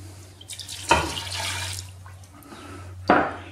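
A cup of water is poured into a pressure cooker already holding beef and milk, giving two short splashing bursts over a steady low hum in a kitchen.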